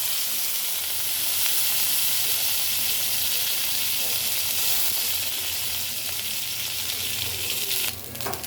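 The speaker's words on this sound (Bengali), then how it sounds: "এখন শুটকিগুলোকে মচমচে করে ভাজবো" Dried fish (shutki) fries crisp in a pan, a loud, dense, continuous sizzle and hiss that holds steady and eases slightly near the end.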